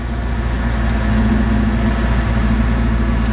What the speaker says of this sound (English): It's just a little rough on the idle from a cold start.